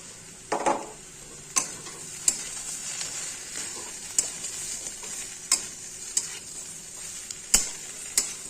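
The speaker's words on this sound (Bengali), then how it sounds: "মশলা দিয়ে এটা সুন্দর করে কষিয়ে নেব" Katla fish head and jackfruit sauté in a pan with a paste of ginger, cumin, coriander and dried chili, giving a steady close sizzle broken by sharp spatula scrapes and stirring strokes every second or so, with no talk.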